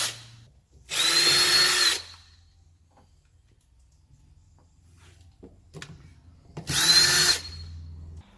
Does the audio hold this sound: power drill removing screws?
yes